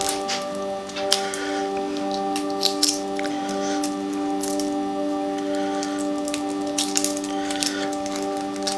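A hard-boiled egg having its shell cracked and peeled over a cutting board, with small crisp clicks and crackles scattered across a steady background hum.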